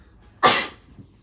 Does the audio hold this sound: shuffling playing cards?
no